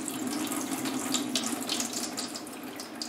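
Water from a tap pours steadily through a potted vanda orchid to flush out salts, a continuous close splashing and trickling rush with no speech over it.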